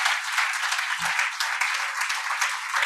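A crowd at the Northern Ireland Road Safety Awards 2021 gives an award winner a short burst of warm, continuous clapping at even volume throughout.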